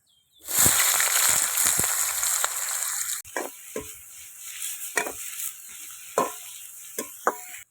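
Bay leaves, dried red chillies and chopped onion hit hot oil in a village kitchen with a loud burst of sizzling that settles into a steady fry, punctuated by repeated knocks and scrapes of stirring.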